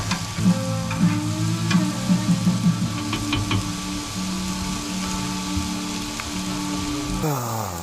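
Onions and minced garlic fry in a pan with a steady, loud sizzle and crackle, broken by stirring clatter. Voices murmur faintly in the background.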